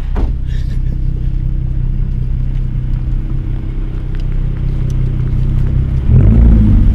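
Ford Mustang engine rumbling loudly with a steady low roar throughout, swelling louder near the end as it revs, no talking over it.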